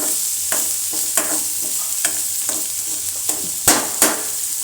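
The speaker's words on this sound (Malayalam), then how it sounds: "നല്ലോണം റോസ്റ്റ് ആവട്ടെ അപ്പോൾ നമ്മുടെ ഉള്ളിയൊക്കെ നല്ലോണം മൂത്ത് വന്നു കേട്ടോ" Onions and a little beetroot sizzle as they roast in a pan, a constant loud frying hiss broken by repeated sharp scrapes and clinks of stirring.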